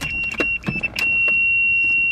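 A project car's engine cranks with a few sharp mechanical bursts, then catches and settles into a steady, loud, close running idle.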